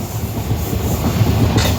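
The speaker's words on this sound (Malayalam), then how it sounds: "ഈ ട്രെയിൻ ഇവിടെ സ്റ്റോപ്പില്ല, സ്കിപ്പ് ചെയ്ത് പോവുകയാണ്" A superfast intercity express train rushing through a Kerala station without stopping, loud, close, continuous rumble and rattle of wheels and carriages with no voices.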